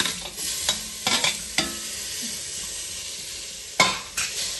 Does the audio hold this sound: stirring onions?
yes